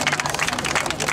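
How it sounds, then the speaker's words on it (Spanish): Applause and clapping from a game-show audience for a female contestant, a dense steady wash of many hands close and loud, with crowd babble mixed in throughout. "¡Un aplauso para ella!"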